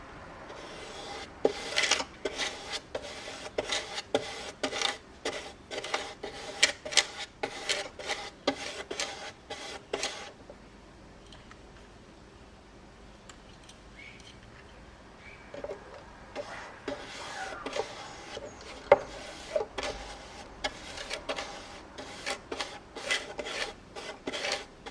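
Sandpaper rubs back varnish on a violin in quick rasping strokes, close and repetitive, stopping for a quiet stretch in the middle before the scratchy back-and-forth resumes.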